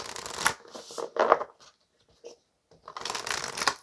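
Tarot cards being shuffled by hand, soft, close riffling in several bursts separated by short quiet pauses, with no speech.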